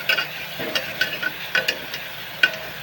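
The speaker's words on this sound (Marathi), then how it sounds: "ते कांदा लवकर भाजतो. चांगलं लाल भाजून घेऊया." Onion frying in a pan with salt, a steady soft sizzle broken by intermittent stirring scrapes and clicks, close up with no voices.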